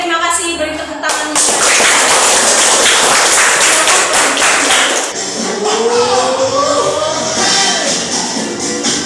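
A school audience at SMP Negeri 1 Patimuan bursts into loud, dense clapping for about five seconds, then it dies away and a voice talks over a quieter background.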